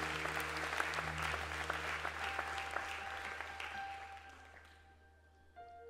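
A church congregation at a sermon applauds loudly with scattered sharp claps and some crowd noise, then the applause gradually fades toward quiet near the end.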